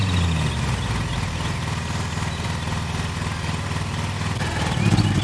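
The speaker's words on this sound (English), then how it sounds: "Oh, I'm overloading my engine?" A riding lawn mower engine from the video game Lawn Mowing Simulator drones steadily in the foreground, a rough chugging hum that stays constant and swells slightly louder near the end.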